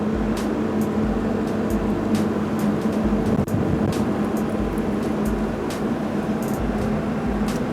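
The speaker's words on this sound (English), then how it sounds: "increase your revs, engage the hydraulics and position the breaker ready to use" Diesel engine of a JCB 9T excavator running at raised revs with hydraulics engaged, a steady loud drone with a low hum throughout and no talk.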